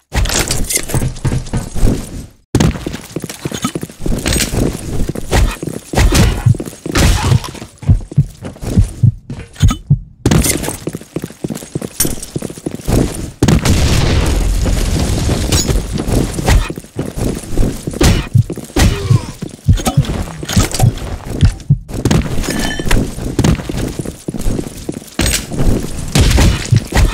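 Grenade blast in the shooter game BlackShot, set amid dense, continuous game action with thumps and impacts throughout, loud and busy rather than a single isolated boom.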